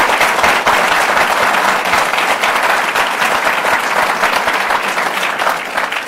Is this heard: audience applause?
yes